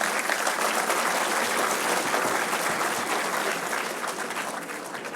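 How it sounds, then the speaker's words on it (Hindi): Sustained applause from a large audience at the Delhi Startup Yuva Festival, a dense wash of clapping that holds steady and fades slightly toward the end, with no speech over it. "मैं चाहूँगी कि एक बार जोरदार तालियां आप लोग अपने लिए बजाएं।"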